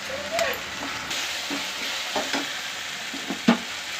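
Ginger garlic paste and turmeric fry and sizzle in a pan while cooking an ivy gourd gravy, a steady close hiss with occasional stirring scrapes and clinks, no talking.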